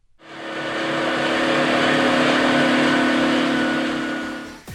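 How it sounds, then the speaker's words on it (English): A tractor engine runs with a loud, steady drone that swells in quickly, holds for a few seconds and then cuts off abruptly, heard alone and close. "Tractor noise and vibration."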